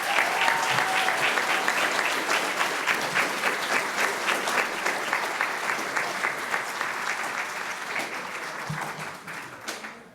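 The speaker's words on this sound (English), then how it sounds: "Big round of applause for all of our students up here tonight." Loud, sustained clapping fills a school board meeting as the audience applauds students, holding dense for most of the stretch before thinning out near the end.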